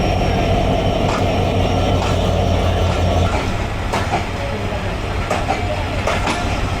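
Passenger train running between Chapai and Joypurhat in Bangladesh, heard from on board as a steady loud rumble with rattling carriages and scattered clanks that carry on without a break.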